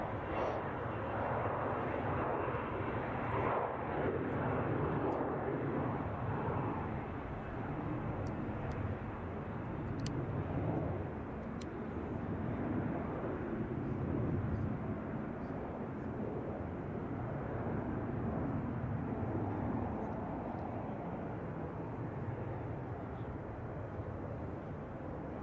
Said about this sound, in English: United Airbus A319 coming in from Salt Lake City.